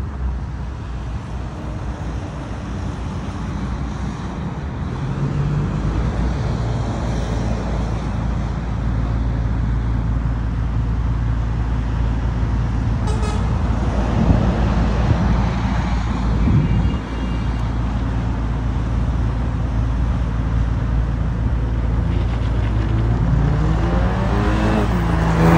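BMW fitted with a 3-inch stainless steel exhaust, engine droning and revving steadily for a long stretch with a deep low rumble, a few throttle blips and rising sweeps near the end, no talk.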